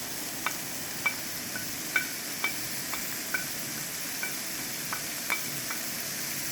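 Broccoli going into a pan of sizzling chicken for a creamy chicken dish, soft steady sizzle with a series of light clicking taps from a utensil at irregular intervals, fairly quiet.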